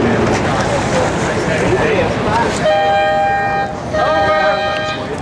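Regatta start sequence at a pro-am race week: a steady horn tone sounds loudly twice in a row, each blast a long sustained note, over wind, water and a constant background rumble.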